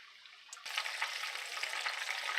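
Food searing in a hot pan for a golden brown crust before finishing in the oven, a steady loud sizzle that jumps up suddenly after a quiet start and holds.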